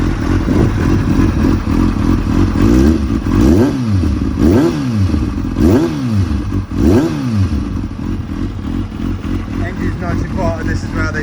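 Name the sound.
2004 Kawasaki ZX6R 636 motorcycle engine running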